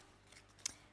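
Scissors give a single sharp snip while cutting slots in a paper craft box, one crisp brief click in an otherwise quiet moment.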